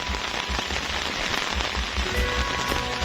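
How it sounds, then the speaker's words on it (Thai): Heavy rain pattering on a surface close by in Khon Kaen, Thailand, a dense continuous patter with low rumbling wind underneath. "ฝนตกครับพี่น้องคนนะทั้งลมบาด"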